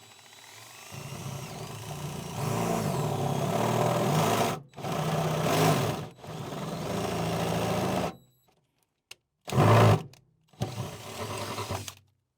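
A power drill bores bolt holes for a seat install in a Ford Transit van, sounding in several loud, close whirring bursts separated by short pauses, with a brief final burst near the end.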